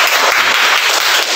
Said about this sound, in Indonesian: Tepuk tangan untuk Ali dan Dada.